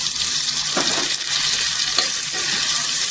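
Chopped tomato frying in hot oil in a kadhai for vegetable pulao, a dense continuous sizzle with a couple of brief stirring scrapes, close and loud with no voices.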